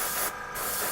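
An airbrush sprays paint onto miniature salamander models with a sputtering, spitty flow, a close, steady hiss that dips briefly in the middle before resuming.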